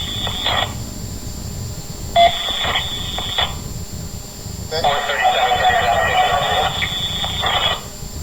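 Emergency medical services radio dispatch traffic, with bursts of beeping tones and squelchy transmissions over a steady background hiss, with voices in between.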